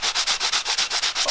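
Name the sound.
sanding pad sanding surface rust off golf wedge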